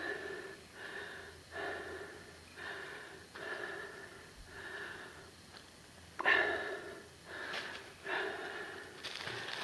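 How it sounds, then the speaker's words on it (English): Heavy, rhythmic breathing from someone out of breath while working a hand drill for fire, about a dozen close, audible breaths in a steady pattern with a couple of sharper sniffs toward the end. "Starting to get out of breath."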